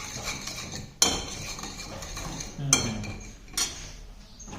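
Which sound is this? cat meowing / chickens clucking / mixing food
mixing food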